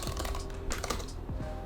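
Typing on the keyboard of an Alienware X17 R1 laptop, a steady run of soft key taps mixed into a busy, noisy background, close by and continuous.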